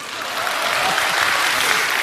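Audience applause at a talk on Wall Street and Chinese finance, a steady dense wash of clapping from a crowd that holds throughout, fairly loud and close with no voices over it.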